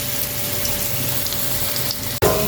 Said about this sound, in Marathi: सगळे पीस आपण ठेवले आता फ्राय करायला.